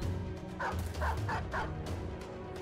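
War dog in the video game Battle Brothers giving a series of short barks and yips, four quick bursts close together, set over a steady game background rumble.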